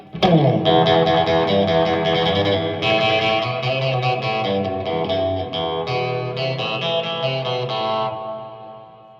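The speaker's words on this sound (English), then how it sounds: "not a big fan of the reverb on this amp" An electric guitar rings out through a Marshall amp with a distorted tone and washy digital reverb, strummed chords sustaining and fading at the end.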